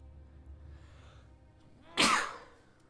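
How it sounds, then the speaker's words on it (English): A single loud, close sneeze bursts out suddenly near the end, rising sharply and then trailing off over a quiet, low background hum. "I've been sneezing a lot here lately"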